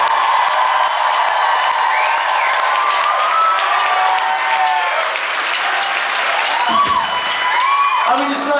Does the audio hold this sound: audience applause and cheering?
yes